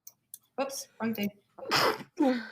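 A sneeze bursts out during a tabletop role-playing game session, loud and close between stretches of casual talk from the players.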